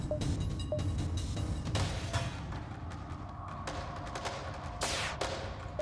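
A rapid volley of gunfire pops in the video game Faster Than Light, layered over a steady low rumble, with a few sharper bursts standing out near the end.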